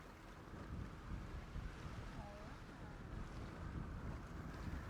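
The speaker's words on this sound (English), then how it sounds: "I think there's a plane flying over." An airplane flying overhead in the GTA V NoPixel roleplay game makes a low, steady, windy rumble that drones on without breaks, moderately loud and without speech.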